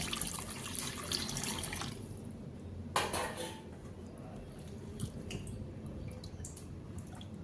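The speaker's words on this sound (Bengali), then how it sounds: "এবারে ঝোলের জন্য দিয়ে দেব জল।" Water is poured into a pan of bottle gourd kofta curry to make the gravy, a close, quiet splash and trickle with clinks of a pot and utensils, including one sharper clatter partway through.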